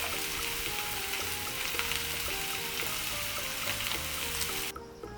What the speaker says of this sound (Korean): 이제 볶고 있는 재료를 한쪽으로 밀고 달걀 1개를 깨서 달걀 후라이를 만들어 주세요.